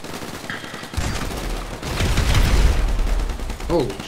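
Continuous gunfire from a weapon in the video game GTA 5, a dense sustained rattle of shots that swells louder midway, with a voice talking over it near the end.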